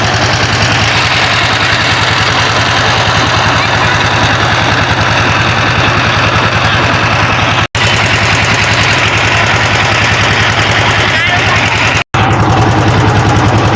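A trawler boat's engine chugs loudly and continuously close by, a heavy rhythmic rumble with a constant throb that fills the whole stretch.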